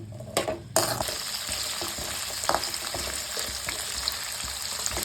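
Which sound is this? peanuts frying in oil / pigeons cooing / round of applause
peanuts frying in oil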